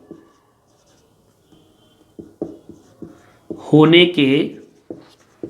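Chalk or marker strokes on a classroom board during a Hindi-medium geography lesson, a few short scratchy taps between pauses, with a teacher's voice speaking briefly over them.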